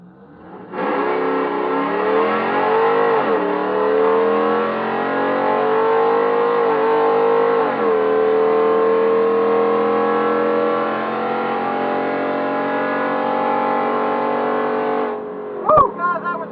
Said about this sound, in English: we're racing that Silverado again with the supercharger on it